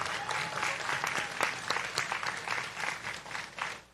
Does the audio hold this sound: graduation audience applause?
yes